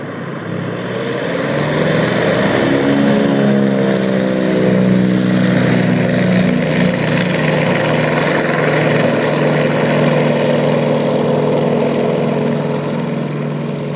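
A Canadian-made firefighting water bomber airplane in Fairbanks, Alaska, runs its engines up to full throttle, a loud, close propeller drone with steadily rising, sweeping engine tones that hold strong throughout.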